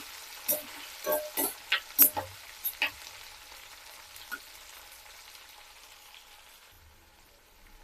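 Garlic and onion frying in sesame oil crackle with a burst of sharp, close pops over the first few seconds. The popping then thins out to a faint, quiet hiss.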